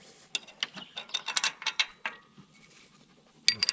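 Bolts on a New Holland 451 sickle mower blade are tightened with a ratchet, giving a run of quick, close clicking ticks in irregular bursts, then a short pause before a final few clicks.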